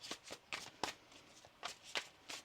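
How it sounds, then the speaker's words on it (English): Tarot cards being shuffled by hand in a series of quick riffling bursts, about eight short rustles spaced irregularly, close and soft with no talking. "Let's get one more shuffle here,"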